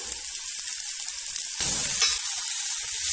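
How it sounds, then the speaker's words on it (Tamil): Onion, ginger and garlic sautéing in a pan, a close, steady sizzle that turns louder and harsher halfway through as the ginger and garlic go in, with no talking. "இதுலயே நம்ம வச்சிருக்கிற இஞ்சி பூண்டு 2யுமே சேர்த்து வதக்கி எடுத்துக்கலாம்."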